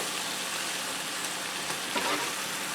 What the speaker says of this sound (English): now I'm going to add in 1/2 cup of white wine. We're going to deglaze that pan of any remaining bits on the bottom